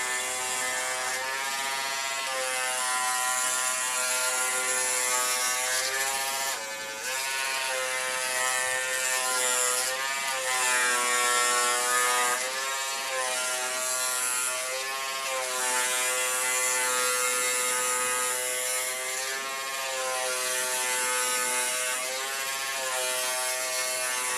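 Electric hair trimmer buzzing through wet hair in a continuous, close, strongly tonal whine, its pitch wavering slightly as the blades drag, with a brief dip partway through and no talking.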